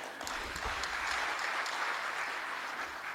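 Applause at a presidential ceremony swells after a brief start and holds as a steady, moderately distant wash of many hands clapping, easing slightly at the end.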